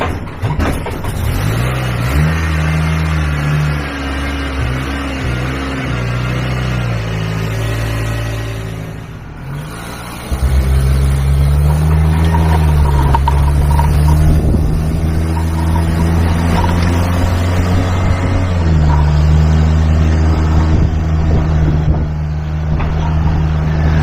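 Freshly serviced Jeep with a new air filter and repaired power-steering leak: the engine turns over and idles with a steady low rumble, briefly dips, then drives off with rising and falling revs, loud and close throughout.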